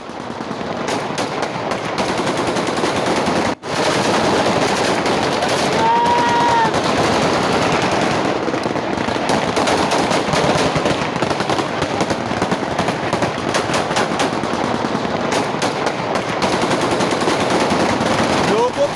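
Automatic gunfire in Syria rattles in dense, continuous rapid bursts, loud and sustained over a noisy outdoor background, with occasional faint voices mixed in.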